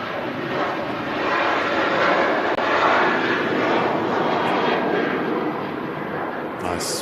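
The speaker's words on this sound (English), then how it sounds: "And his first Ryanair rolling" A Ryanair airliner rolls for takeoff at Manchester Airport, a loud, steady broadband jet roar that swells through the middle and eases slightly toward the end, heard from fairly close with no talk over it.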